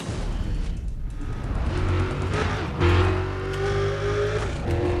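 A race car roars along a highway in Need for Speed: Undercover, the engine note climbing through gear changes with rising whines, tires hissing and brief squeals, loud and steady with no talking.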